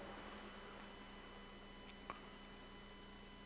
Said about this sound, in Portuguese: Esse grilo que está cantando aqui.